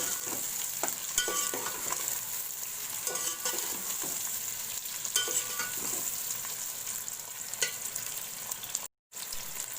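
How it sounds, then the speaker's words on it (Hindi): Capsicum being sautéed with onions and chicken in a pan for a chicken, capsicum and potato curry, with a steady close sizzle and repeated scraping stirs throughout and a brief gap near the end. "अब मैंने इसमें शिमला मिर्च ऐड कर दी है। ये प्याज सौते करके मैं थोड़ी देर इसको भी सौते कर लूँगी"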